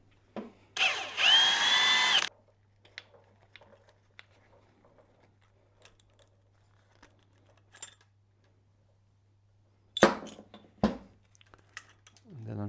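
A power tool, likely an impact gun, rattles off a timing chain sprocket bolt on an Audi V8 4.2 FSI engine in one loud two-second burst near the start, then comes back in short bursts later, with quiet clinks of tools between.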